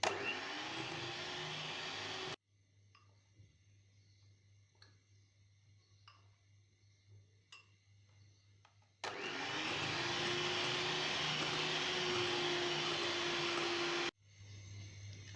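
An electric beater whirs loudly through eggs and icing sugar for a stovetop cake, running steadily for a couple of seconds, stopping for a quiet stretch with faint clicks, then whirring again for several seconds before cutting off.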